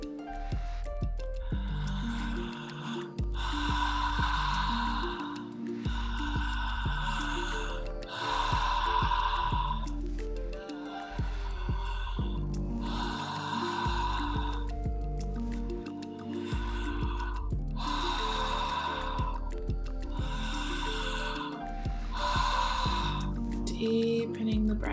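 Deep, slow breaths during guided breathwork, a long series of loud, close inhales and exhales in a regular rhythm, each a breathy rush separated by brief pauses, over a low steady drone.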